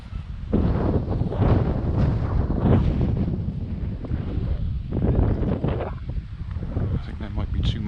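Strong wind buffeting an outdoor microphone at a model biplane flying field, a continuous loud rumbling roar that surges and dips throughout.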